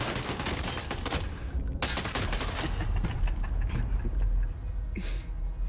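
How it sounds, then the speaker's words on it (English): Gunfire in the video game Warzone, dense rapid bursts of shots crackling one after another at close range, with a brief lull before more firing near the end. "They're shooting at me."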